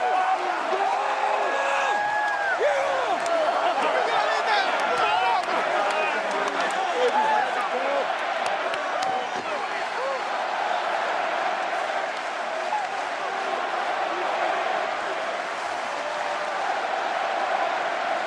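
A packed ballpark crowd at Game 5 of the 2010 World Series in Arlington keeps up steady applause, cheering and whooping as the Giants celebrate their title, with an announcer speaking over the roar.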